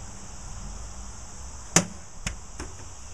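A stainless steel chef's knife strikes a plastic water bottle with one sharp, close impact, followed by two fainter knocks, over a steady high background hiss.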